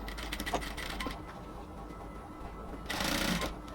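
A sewing machine stitches the outer fabric of a band collar on a dress, running in short bursts of rapid mechanical clatter with a louder, denser run near the end; no talking is heard.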